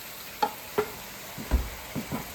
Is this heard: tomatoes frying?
yes